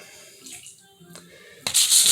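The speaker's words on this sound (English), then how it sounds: "you got to kind of wet it down a little bit." Water splashed onto a hardwood floor to wet down old glue, a few soft drips and small splashes followed by a louder burst of pouring or spraying water at the end.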